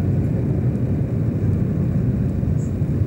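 A continuous, loud roar of aircraft engines as many planes take off during the Gulf War in January 1991, a steady deep rumble with a broad hiss over it, holding level throughout.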